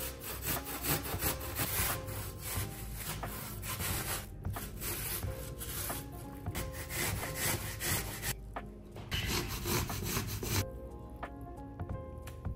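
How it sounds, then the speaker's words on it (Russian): An unpeeled apple is rubbed over a fine grater in quick rasping strokes, close and continuous, with short pauses near the end. "Шкурку я не снимаю, буду натирать его на мелкой терке прямо так."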